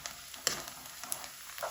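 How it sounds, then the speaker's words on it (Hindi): Onions fry gently in about half a cup of oil, giving a quiet, low sizzle broken by a few soft clicks and stirring sounds. "तो अब इनके अंदर हम डाल देंगे प्याज। इनको हल्का सा फ्राई करेंगे।"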